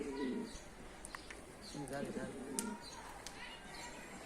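Adana pigeon cooing in short throaty bursts under excited talk and laughter, with a few sharp clicks and knocks nearby, during pigeon flying.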